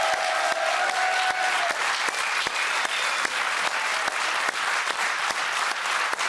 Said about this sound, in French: Je vous demande des applaudissements pour les 5 derniers candidats qui réalisent le parcours sans faute